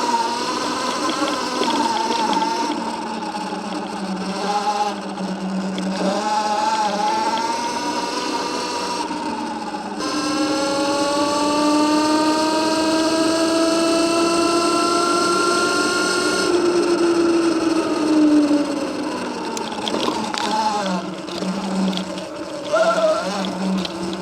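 A Seemoon electric off-road dirt bike being ridden off-road, its motor whine rising and falling in pitch with throttle over a continuous rush of wind and terrain noise, fairly loud and close, no talking.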